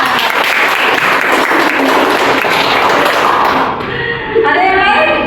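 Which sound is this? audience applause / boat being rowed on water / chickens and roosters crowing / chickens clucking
audience applause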